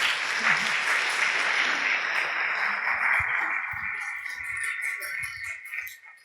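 Audience applause at a church pastoral gathering, steady crowd clapping that fades gradually, leaving a few scattered claps and faint background noise toward the end.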